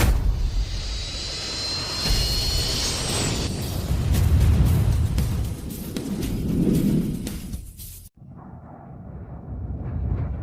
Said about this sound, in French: Demande d'autorisation d'atterrissage d'urgence.